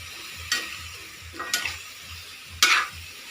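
String beans and chicken adobo stirred in a pan, three distinct scraping strokes of a spoon over a low sizzle, close and clear, with no talking.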